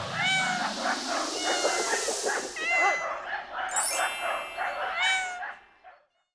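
An 8-year-old female cat named Pecan, up for adoption, meows repeatedly and loudly up close. Her drawn-out, insistent cries overlap with more high-pitched mewing from other animals nearby.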